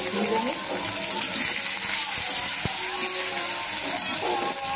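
Salted prawns sizzle and spit as they drop into hot oil in a pan, a loud continuous hiss with crackling running under a voice talking.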